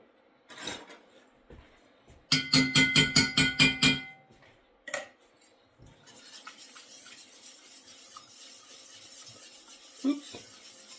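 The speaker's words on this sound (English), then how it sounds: "I'm gonna get my whisk." A whisk clatters against a bowl while mixing low-sugar BBQ sauce with Worcestershire sauce: a rapid run of loud metallic strokes, then softer scraping and stirring, close up.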